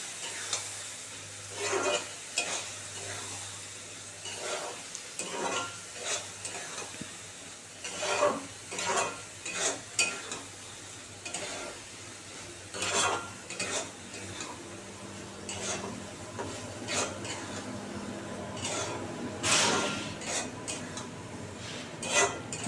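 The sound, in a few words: stirring and frying spice paste in a pan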